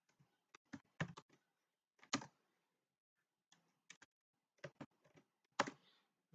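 Code being typed on a computer keyboard: quiet, sparse bursts of close key clicks separated by short pauses, with no talking.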